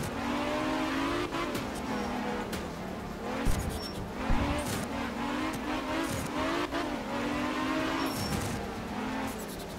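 A rally car in the video game Art of Rally, its engine revving up and down through gear changes, with tire squeals and skids over a loud continuous drive.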